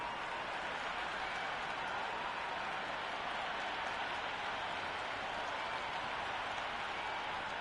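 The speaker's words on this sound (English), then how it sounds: "The crowd are making a heck of a lot of noise even before the first ball's been bowled" Steady roar of a large cricket stadium crowd in a video game, a dense wash of cheering and chatter that holds at a constant level throughout with no break.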